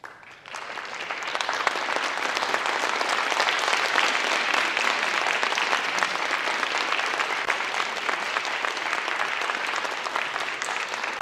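Sustained audience applause at a Life Skills graduation ceremony, congratulating a graduating student who stands at her seat; dense, steady clapping from a full room that rises quickly and holds evenly for about eleven seconds.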